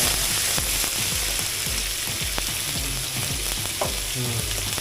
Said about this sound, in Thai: เมื่อเจียวพริกกับกระเทียมไม่หอมแล้วนะครับ ก็ใส่ ปลาลงไปครับเนื้อปลา